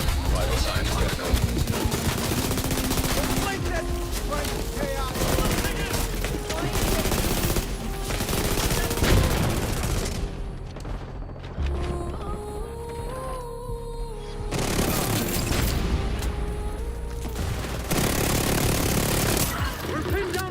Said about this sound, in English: We're pinned down by turrets at the main gate!